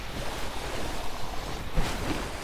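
Water spraying from an irrigation hose in Lightyear Frontier, a continuous broadband rushing hiss with a slight surge near the end, steady and fairly close.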